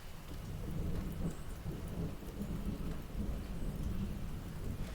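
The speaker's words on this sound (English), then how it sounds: "it's raining out here and it's storming" Steady rain pours down in an Alabama thunderstorm while low thunder rumbles and rolls throughout, a dense, continuous wash of storm noise with no voices.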